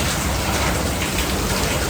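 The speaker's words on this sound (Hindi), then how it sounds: "अभी बारिश इसी तूफान चल रही है" Heavy rain pours during a storm on a highway motorcycle trip, a dense, loud, even hiss of falling water with no break and no voices.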